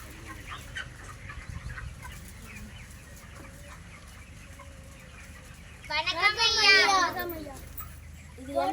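Chickens on a poultry farm cluck and squawk in a loud burst over a low background murmur, with scattered softer clucks and faint voices beforehand.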